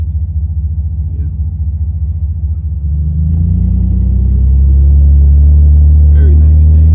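A GM G-body car's engine rumbles low and steady nearby, the deep drone growing louder partway through as the car pulls away, with a voice talking over it.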